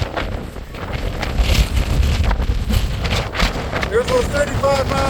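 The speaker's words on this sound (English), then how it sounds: "There's those 35 mile an hour gusts" Strong mountaintop wind gusts of around 35 mph roar steadily across the microphone with heavy buffeting, and a person's voice breaks through briefly near the end.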